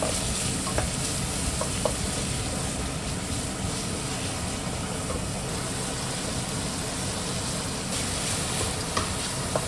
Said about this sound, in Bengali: অল্প পরিমাণ তেল দিয়ে তার সামান্য পেঁয়াজ কুচি দিয়ে দিয়েছি।